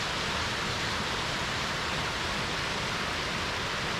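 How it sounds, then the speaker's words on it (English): Cascades and waterfalls tumbling over karst limestone at Skradinski Buk in Krka National Park, Croatia, a steady broadband roar of rushing water, loud and unbroken with no voices. "natural running water interacts with the karst limestone topography to form this spectacular landscape of cascades and waterfalls"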